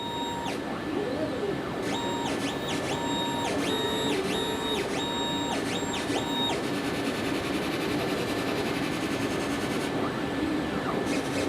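A laser cutter cutting model parts, with a constant hum of the machine and fans under repeated high electronic beeping tones and stepping motor whines in regular bursts, continuous and close.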